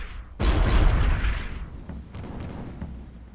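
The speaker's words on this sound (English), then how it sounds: "I'm gonna go for the hull. Shoot." A ship's cannon in the airship game Guns of Icarus Alliance fires at an enemy hull: one heavy booming blast that rolls off into a rumbling decay, followed by a few faint clicks.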